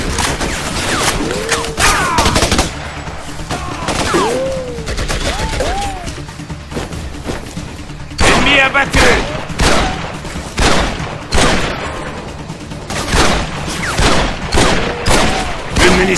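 Gunfire from the jungle combat game Raven Squad: repeated loud, cracking bursts and rapid volleys over sixteen seconds, some shots isolated and others clustered, with occasional shouted voices between them.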